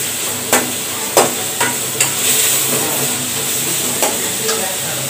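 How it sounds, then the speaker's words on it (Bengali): Chopped onion stir-fried in oil in a pan for a poa fish tomato curry: a steady close sizzle broken by several sharp scrapes and knocks of a spatula at irregular intervals. "তেলের মধ্যে পেঁয়াজ কুচি দিয়ে দেব। পেঁয়াজটা একটু হালকা করে ভেজে নেব।"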